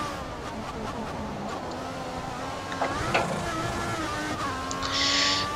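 A Ferrari Formula 1 car in the F1 2014 game at Sochi on a damp track, a steady engine whine rising and dipping through gear changes, moderately loud and alone, with a brief hiss near the end.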